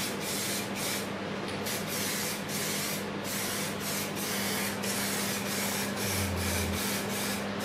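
Spray painting with a spray gun, a steady continuous hiss of atomised paint sustained throughout at close range, with a low compressor-like hum beneath and a brief low tone near the end.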